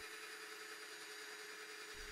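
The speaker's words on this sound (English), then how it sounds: "Each hole I drilled down until it was around 3 millimeters away from the bottom." A drill bores pen holes into a wooden desk tidy, a steady loud whirring drone that holds constant throughout with no pauses or speech.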